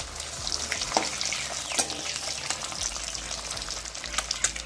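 Pieces of boiled egg frying in oil in a kadai for pepper fry, a steady crackling sizzle with brief spatters and pops as they are turned, close and clear with no talking.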